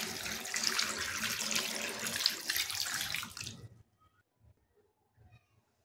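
Clams being rinsed clean in water, with a steady splashing, running-water wash for a few seconds that stops abruptly, leaving near silence with a few faint knocks.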